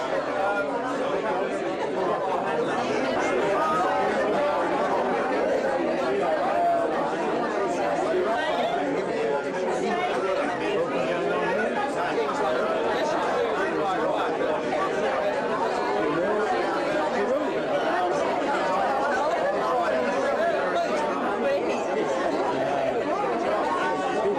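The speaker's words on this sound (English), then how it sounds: "There's a lot of talking and a lot of noise." Continuous crowd chatter fills the space, many overlapping voices talking at once in a busy indoor hum.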